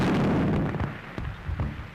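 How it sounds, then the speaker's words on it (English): Artillery shells burst in a dull, rumbling boom that fades over a second, followed by a few smaller distant thuds, heard in an early 1930s film. "But what were those explosions? Shells, my dear."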